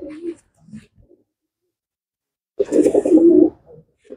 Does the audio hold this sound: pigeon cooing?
yes